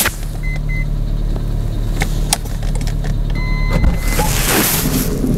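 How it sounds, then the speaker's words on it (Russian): A used car's electric sliding power door runs, a loud close motor whine humming steadily for several seconds before a clunk and rushing noise as it finishes, with no talk. "электродверь, которая, естественно, у нас работает"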